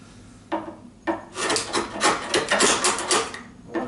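Close, loud scraping of a chisel shaving high spots off a wooden board for a bed frame, a couple of short strokes and then a sustained rasping pass, with no voices.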